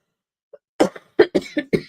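A small throat catch, then a close fit of about five harsh coughs in quick succession, loud against silence.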